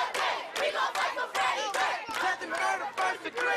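A protest crowd chants in strong rhythmic bursts, many voices shouting together in repeated phrases, loud and close, with officers standing behind caution tape.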